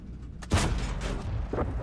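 Tank cannon fire in the World of Tanks video game, one sharp loud boom with a rumbling tail followed by a second fainter report about a second later.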